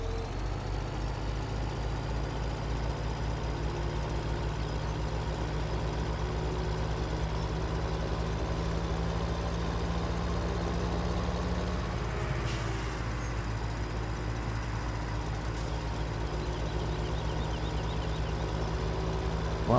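A tractor engine in Farming Simulator 17 running steadily, a continuous low rumble that drops in pitch midway as if easing off, with a brief hiss or clatter afterward.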